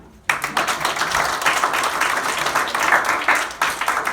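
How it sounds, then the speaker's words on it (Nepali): A church congregation bursts into sustained applause after a brief quiet start, many hands clapping together loudly and evenly for several seconds in a large room. "एकचोटि ताली दिउँ न"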